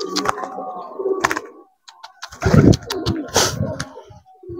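Soft cooing of pigeons at a market pigeon seller's stall comes in short bursts with pauses between, close by, mixed with light clicks and rustling.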